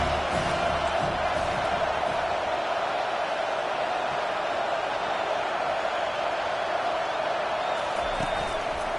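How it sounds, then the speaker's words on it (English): A large stadium crowd at an American football game roars continuously in a dense, steady wash of cheering that never lets up. "This crowd bringing the energy and noise early."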